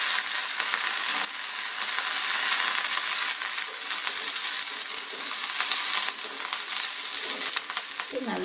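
Curry leaves fry in a pan of hot oil for marunthu rasam, giving a steady, close, crackling sizzle with occasional stirring clinks throughout.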